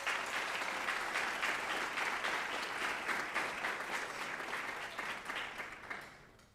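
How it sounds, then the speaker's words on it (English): Audience at a high school class day awards ceremony applauding, a full steady burst of clapping across the room that holds for several seconds before fading out at the end. "Let's give them all a round of applause."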